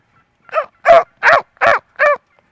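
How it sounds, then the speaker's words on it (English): Turkeys call out close by in a run of five loud, evenly spaced yelping notes, each short and harsh, against an otherwise silent background. "Boy, the turkeys are talking up a storm."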